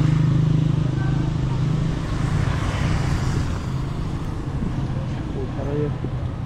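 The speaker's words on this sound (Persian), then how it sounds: "موتور و ماشین از اینجا چی میخواد من نمیدونم" Steady rumble of passing cars and motorcycles, a continuous wash of engine and road noise with indistinct voices underneath.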